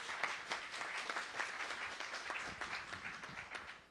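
An audience at a public-sector panel discussion applauds, a fairly faint, steady patter of many hands clapping that lasts throughout without fading.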